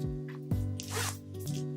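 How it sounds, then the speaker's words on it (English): A zipper on a fold-over clutch bag zipped in a few short, close, crisp pulls over a low steady hum. "It's got a good, nice zipper on it."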